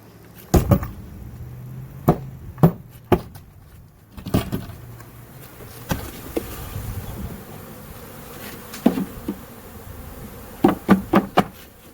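Honeybees buzz in a low, steady hum during a hive cutout, broken by frequent sharp clicks and knocks of nearby handling.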